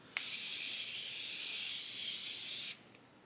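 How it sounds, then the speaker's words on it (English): A single continuous Morphe setting spray mist hisses close up onto a face for about two and a half seconds, starting and stopping abruptly, with quiet before and after. "Now I just take my Morphe continuous mist and I spray all over my face."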